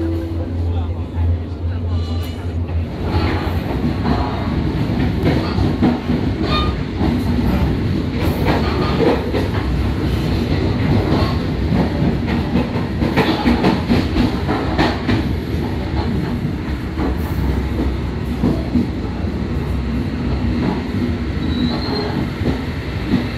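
A passenger train runs on the rails with a steady, loud roar and rapid clickety-clack, occasional wheel squeals and rattling carriages throughout, heard from inside the car.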